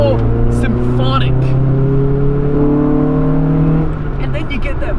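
A Honda Civic EF9 SiR with a B16A VTEC engine revs steadily, its rising harmonic engine note loud and close from inside the car, holding up before easing off near the end.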